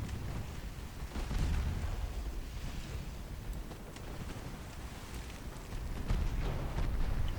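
Naval artillery fire from warships in Ultimate Admiral Dreadnoughts, with a 1899 German fleet battling battleships at sea: a continuous low rumble of distant gun booms and splashing water, swelling and fading in waves with no talk.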